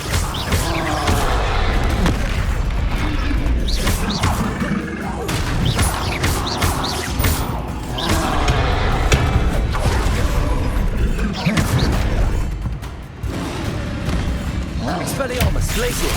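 Spell effects crackle and burst through a Hogwarts Legacy battle, fire, disarming and freezing charms in rapid succession with booms and crashes, a voice shouting incantations over the dense, continuous clamor.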